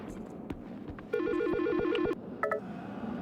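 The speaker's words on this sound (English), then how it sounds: "we're gonna get a phone call from Dahlia and then a text message" A phone rings in the video game Silent Hill Shattered Memories, a clear electronic trilling tone lasting about a second, followed by a shorter second ring burst amid soft ambient game sounds.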